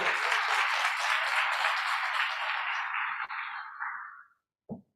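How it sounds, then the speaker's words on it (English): Sustained applause from an audience at a CROWN Week 2022 panel event greeting Mayor Elaine O'Neill, a Hillside alum, a dense steady clapping wash for about four seconds before it thins and fades out. "Let's give a round of applause for our very own mayor and Hillside alum, Mayor Elaine O'Neill."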